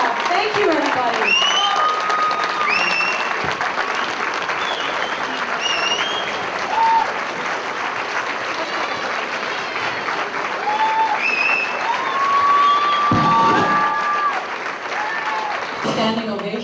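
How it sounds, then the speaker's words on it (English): A standing ovation at a Janta Sewak Society dinner: sustained, dense clapping from a large crowd, fairly loud and steady for the whole stretch, with a few whistles and cheers rising above it. "Standing ovation at a Janta Sewak Society dinner."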